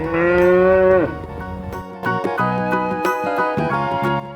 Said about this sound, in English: What sound does a cow make?